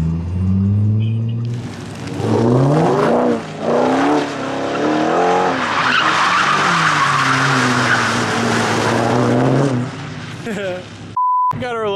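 A B8 Audi S4 skids sideways, its tires squealing loudly and continuously for several seconds over a strained engine note. The sound comes from close by and ends with a short electronic beep.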